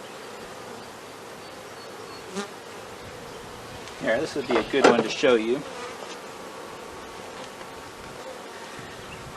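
Honeybees swarm over a heavy honey frame lifted during a spring hive inspection, a low hum under the scene with a louder burst of buzzing close by midway, while a person talks briefly.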